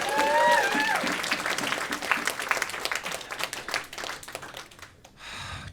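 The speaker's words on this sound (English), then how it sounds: "Round of applause for Bryden." Audience applause and clapping at a live stand-up comedy show in Winnipeg, loud at first and then thinning into scattered claps, with a few voices over it and a brief lull before a last swell.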